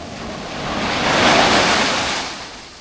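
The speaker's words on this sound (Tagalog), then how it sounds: "Ang laki niya, ang laki ng alon." A large ocean wave surges in and crashes at Dibut Beach, swelling to a loud roar mid-way, then fading back into wind-blown surf.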